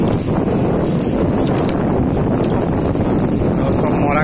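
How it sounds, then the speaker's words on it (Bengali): Wind roars across the microphone on a beach beside dense mangrove forest at Jamtoli in the Sundarbans, with big sea waves breaking in a continuous loud wash and no clear speech. "বিশাল ঢেউ"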